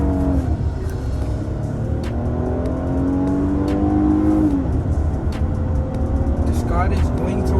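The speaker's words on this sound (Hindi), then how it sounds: "car is going through gears और इतनी बड़ी SUV और इतनी ज़्यादा पावरफुल" Kia Sorento SUV on a test drive accelerates through its gears, engine tone rising in a smooth sweep and dropping at a shift, heard from inside the cabin with someone talking over it throughout.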